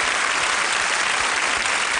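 Television studio audience in Chile applauding a singer, an even, continuous roar of clapping hands that stays loud and unbroken throughout, with no voices.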